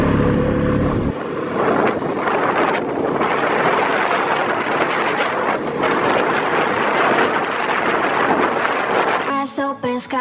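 Four-wheeler ATV ride behind a house, with heavy, steady wind buffeting the microphone nearly throughout and a brief burst of music near the end.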